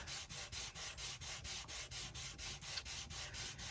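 Rhythmic back-and-forth rubbing of 800 grit abrasive along the edges and corners of a Horween Dublin leather pen sleeve, steady strokes about four per second, close and alone.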